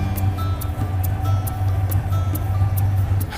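A 1955 Chevy Bel Air with a Hemi engine, sticking clutch and failing brakes, drives around the block, its low engine rumble droning steadily with a faint rhythmic ticking on top.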